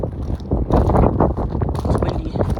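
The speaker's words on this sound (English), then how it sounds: "It's windy." Strong wind buffets the microphone outdoors near an abandoned train car, a loud, continuous gusting roar that swells and dips throughout.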